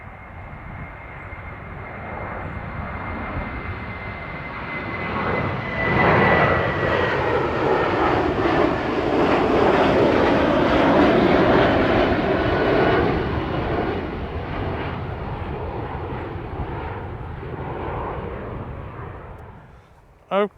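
A departing airliner roars past the end of runway 27 at East Midlands Airport, its jet engine noise building to a loud, sustained rumble and whine before easing off.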